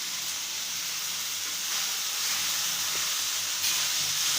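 A pot lid lifted off eggplant curry cooking over a lowered gas flame releases a soft, steady hiss of steam and faint sizzle, close and fairly quiet, swelling slightly midway and again near the end.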